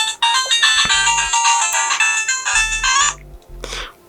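Chiptune music and sound effects from Donkey Kong Land play through the small built-in speaker of an Anbernic RG35XX handheld, a bright melody with bass blips, loud and close, cutting off abruptly near the end before a final burst.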